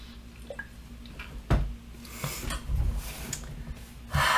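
Someone takes a drink of water up close: soft sips, wet gulps and breaths come in short, irregular bursts against a quiet room background.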